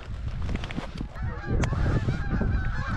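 A big flock of geese lifts off over a plowed corn field, honking loudly and continuously in an overlapping chorus, with wing flaps and field noise mixed in nearby.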